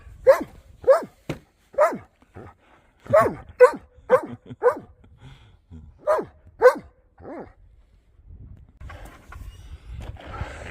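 A dog barks repeatedly in short, sharp bursts while snow is being shovelled, close and clear, with brief pauses between volleys and faint scraping toward the end.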